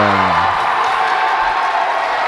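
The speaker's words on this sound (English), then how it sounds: "the Morgan Park girls cheering themselves out like they just got that good point" Morgan Park girls' volleyball players cheer after winning a point in an IHSA sectional final, a steady, loud burst of crowd cheering and whooping that fills the gym from start to finish.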